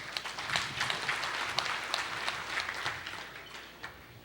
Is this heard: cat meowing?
no